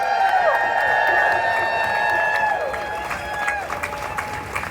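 Outdoor crowd at an arts rally outside City Hall in San Diego applauding and cheering with whoops, steady and fairly loud, over the sustained tones of a band playing, easing off toward the end.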